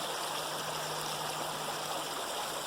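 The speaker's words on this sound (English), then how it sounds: "Aside from the sound of the water and the ravens, the silence here is almost complete." Steady water flowing in a stream deep in a quiet canyon, a constant soft rushing hiss with no breaks and no voices, moderately distant and even throughout.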